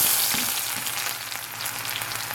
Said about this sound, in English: we're going to add our onion.